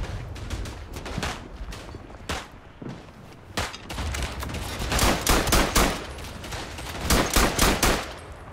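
Machine gun fire in the World War I shooter Verdun on the Artois map, bursts of close, sharp automatic shots. Sparse shots give way to denser volleys that build in loudness toward the end, with no talk.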